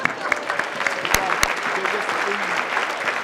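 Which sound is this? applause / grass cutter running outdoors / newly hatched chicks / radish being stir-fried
applause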